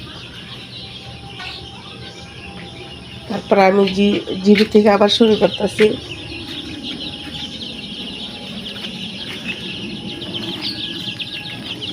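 Baby chickens in a poultry shed keep up a faint, steady high chirping throughout, with someone talking close by in the middle.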